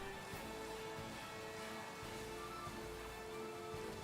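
Steady, even rainfall hisses without pause as ambient weather in a Pokémon video game, a soft broadband wash with no voices.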